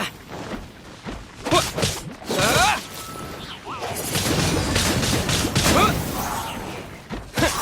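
A wind blade attack in the video game Genshin Impact, with bursts of whooshing swishes and crashing impacts sweeping through a busy battle mix, loud and close, with voices in the background.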